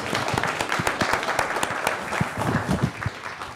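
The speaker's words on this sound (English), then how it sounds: "Can we all give a round of applause to Daisy," An audience applauds steadily for Daisy, an illustrator standing at an evening book talk at a Vancouver public library, dense clapping filling the room at even loudness throughout.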